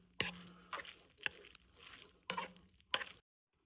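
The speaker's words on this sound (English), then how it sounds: "Now I'm gonna mix around the butter" Butter and cooked fettuccine being stirred in a pot, a few scraping, sloshing strokes of a utensil at an uneven pace, close and fairly quiet.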